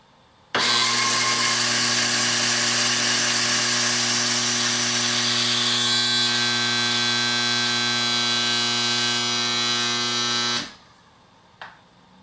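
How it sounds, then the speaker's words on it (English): An Egro NEXT Touch coffee grinder grinding coffee beans runs loud and steady for about ten seconds with a strong motor whine, then spins down and stops, followed by a brief click. "So I'm going to grind 2 more times, weighing each time."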